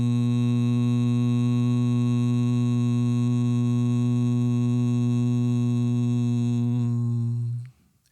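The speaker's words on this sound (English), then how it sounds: "Then exhale the humming." A person hums a single steady, low, buzzy note on one long exhale during a breathing exercise with thumbs in the ears and fingers over the eyes; the tone holds evenly and loudly for about seven seconds before cutting off.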